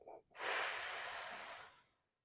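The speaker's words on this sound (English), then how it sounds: "Breathe in, breathe out." After a short intake, one slow, deep breath is pushed out audibly for about two seconds during a quad roller and hip flexor stretching routine. It is close, soft and airy, with no other sound.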